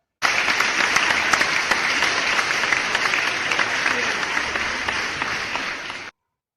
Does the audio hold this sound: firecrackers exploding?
no